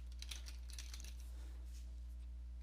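Someone types on a computer keyboard, a quick burst of light, close key clicks early on that thins to a few scattered taps over a steady low electrical hum.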